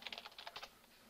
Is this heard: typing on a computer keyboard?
yes